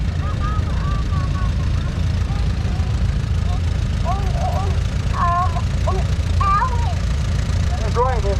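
An Allis-Chalmers Model B tractor idles steadily at an outdoor tractor show in Ellison Bay, Wisconsin, its low engine rumble continuous beneath an announcer's voice.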